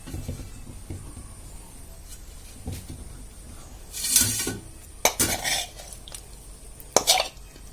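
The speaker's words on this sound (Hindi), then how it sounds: "अभी इसको मैं बर्तन में निकाल लेती हूँ।" Boiled pork being transferred into a dish in a home kitchen, with scattered clinks of utensils against metal cookware and a few louder scraping, clattering bursts toward the end, close and without speech.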